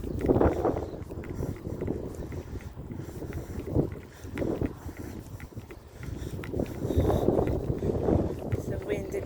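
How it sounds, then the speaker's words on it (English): Wind gusting past the microphone on an afternoon walk, rumbling in uneven surges that rise and fall over several seconds, with a muffled voice faintly under the buffeting. "It's the wind again."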